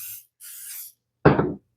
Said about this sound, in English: So yes, I'm using a cooking spray.